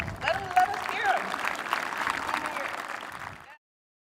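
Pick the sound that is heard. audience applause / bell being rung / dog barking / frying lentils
audience applause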